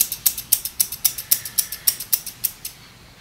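Sam Villa hair shears being opened and closed make a rapid series of about fourteen sharp, gritty metallic snips and scrapes, close and fairly faint, in an even rhythm before stopping.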